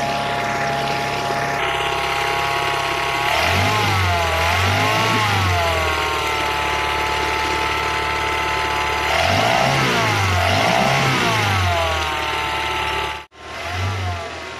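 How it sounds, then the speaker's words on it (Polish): A small outboard motor fitted with a replacement CDI ignition module runs steadily at idle, with the engine note rising and falling in a couple of revving swells before cutting briefly near the end. "Silnik równo pracuje"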